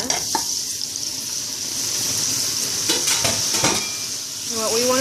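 Beef chunks dropped into hot oil in a pot on high heat for beef stew, a strong continuous sizzle with a few utensil clinks and stirring sounds, no talk.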